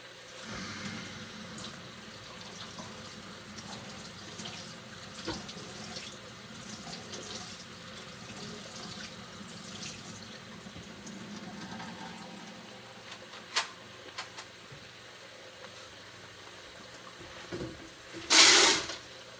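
Water running into a cooking pan as butter beans are rinsed in a home kitchen, a steady faucet-like flow lasting throughout, fairly quiet, with a brief louder splash near the end and no talking.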